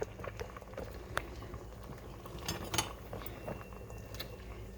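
A pot holding a full bag of beans bubbles quietly on the stove, with soft, irregular pops and gurgles heard close up against a low background hum.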